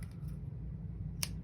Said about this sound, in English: Obviously, whenever you're using scissors,